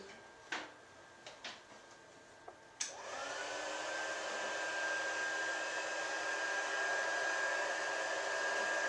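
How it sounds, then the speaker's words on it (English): Heat gun blasts hot air onto a handmade card after a few light clicks and taps, its whirring hum rising and then holding as a steady near drone. "just give that a quick blast with a heat gun"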